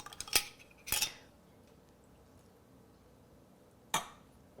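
Rice dressed with rice vinegar and sugar is stirred for sushi with a metal utensil in a bowl, giving a few separate scraping clinks near the start and one more after a quiet pause, with no talk.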